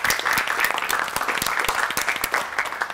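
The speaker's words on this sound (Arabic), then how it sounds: "صفقوا لهم العسل." A school quiz-show audience applauds, with dense, steady clapping from many hands filling the room for several seconds, loud and close, with no talk over it.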